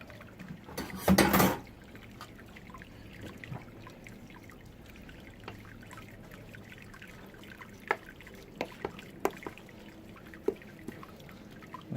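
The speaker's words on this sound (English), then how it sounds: "I'll agitate the grains a little bit." Grains steeping in a litre of water in a brewing kettle are stirred, giving one short loud sloshing burst near the start followed by quiet scattered drips, trickles and small clinks against the vessel.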